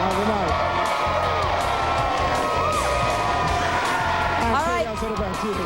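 A large crowd cheers and whoops at a high school football show, a dense continuous roar of many voices with shouts rising and falling throughout, fairly loud and steady.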